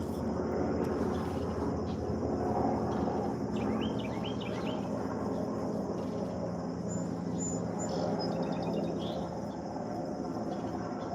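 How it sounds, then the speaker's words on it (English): A loud helicopter passes by outdoors, a steady broad rumbling roar that fills the whole stretch, with faint birdsong and insect chirps over the top. "There's a really loud helicopter going by"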